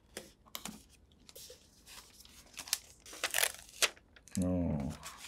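Packaging for a Redmi Pad 2 Pro keyboard case is opened during an unboxing, giving close crinkling, tearing and crunching of paper and plastic in irregular bursts. A voice briefly speaks near the end.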